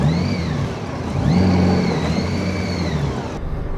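A Honda Goldwing motorcycle engine revs aboard a ship during loading, with rising and falling whirring engine tones that swell around the middle, close and steady with no talk.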